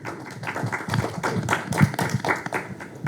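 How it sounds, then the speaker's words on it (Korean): An audience claps at a press screening and press conference for the Korean film 'Doom Doom'. The clapping is moderately loud and somewhat uneven, with scattered sharp hand claps continuing steadily for a few seconds. "박수 부탁드립니다."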